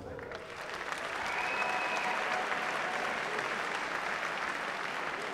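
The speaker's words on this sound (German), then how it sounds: "Gerne einen Applaus" A crowd at a K1 kickboxing event applauds a young fighter being introduced, a dense, even wash of clapping that swells after the first half second and holds steady, heard from a distance.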